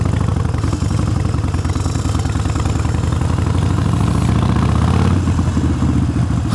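A Harley-Davidson 48 motorcycle with a stage 1 exhaust starts up and settles into a loud, close, lumpy idle with steady clattering pulses, and no voices are heard.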